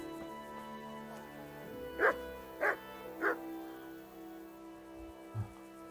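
A dog in the video game Kingdom Come: Deliverance gives three sharp, evenly spaced barks, close and clear over a quiet game background, followed by a soft short whine.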